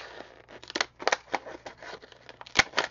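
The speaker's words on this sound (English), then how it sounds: "you're going to punch a couple circles. I'm using some gold paper and a little circle punch." A small handheld circle punch cuts circles from gold paper, giving a series of sharp crisp clicks and crunches at close range, with no talking.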